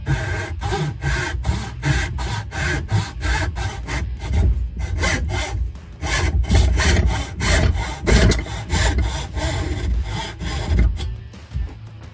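A hand saw cuts the edges of a dado in wood, a steady rhythmic rasping of quick back-and-forth strokes heard up close and alone throughout.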